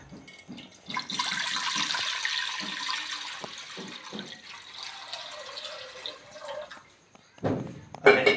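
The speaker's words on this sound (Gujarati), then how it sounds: "1 જગ પાણી નાખી દઈશું આ કુકરમાં" Water is poured from a jug into a pressure cooker for boiling corn, a continuous splashing, filling rush that lasts several seconds and then tapers off, followed by a brief clatter.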